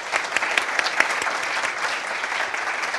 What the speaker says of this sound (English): Please join me in a round of applause for Mr. Faruk Eczacıbaşı.